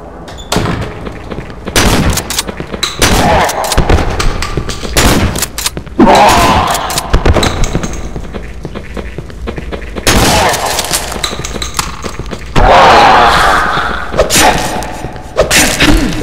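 Repeated 9mm pistol shots ring out in the horror game Cry of Fear, loud sharp cracks spaced irregularly across the stretch, some in quick pairs, with rumbling thuds and occasional voices between them.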